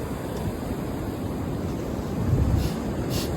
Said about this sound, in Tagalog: Malakas ng malakas ng hangin.